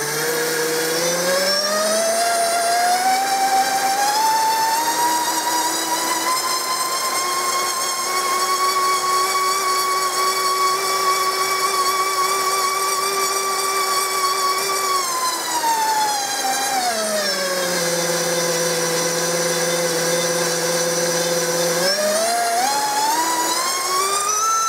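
A Dragonfly 2206 2800KV brushless motor on a thrust test stand whines loudly and continuously, its pitch rising to a sustained high tone, dropping back for several seconds, then climbing again.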